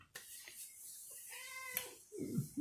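A cat meows for food in a home kitchen: a couple of short, fairly faint cries, with a louder, rougher vocal burst near the end.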